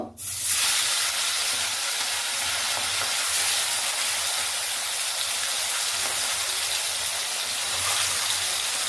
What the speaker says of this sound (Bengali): এর মধ্যে আমরা চিকেনটা এবার অ্যাড করে দেব।